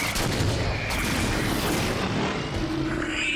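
Rapid gunfire in the video game Halo 4, dense overlapping shots and booms forming a continuous loud barrage of combat noise, with no talking.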